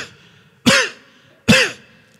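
Two hoarse, rasping coughs spaced under a second apart, a voice imitating a sick, barking cough like a rabid dog's, loud and close with quiet between.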